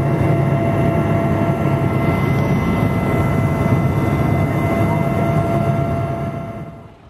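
Inside a helicopter flying to St Mary's in the Isles of Scilly, a loud, steady engine and rotor drone fills the cabin for several seconds before fading away at the end.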